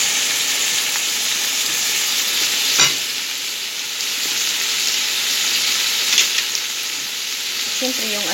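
Chicken majboz being stirred in a frying pan, steady oily sizzle and hiss running throughout with a couple of louder scrapes of the spoon against the pan, no talking.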